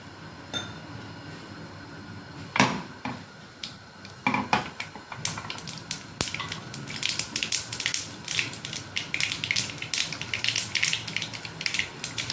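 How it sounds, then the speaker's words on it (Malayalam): Mustard seeds crackle and pop in hot coconut oil, starting with scattered pops and building into rapid, dense spattering, close and steady. "കടുക് പൊട്ടി വരുന്നുണ്ട്."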